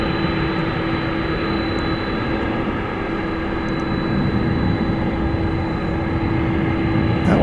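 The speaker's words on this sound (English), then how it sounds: "Takeoff." An airplane takes off at DFW Airport, a loud, steady engine roar with a strong sustained tone running throughout, building slightly toward the end as the jet powers down the runway.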